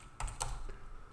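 A few quick keystrokes tapped on a computer keyboard while writing C code, a short close cluster of light clicks in a quiet room.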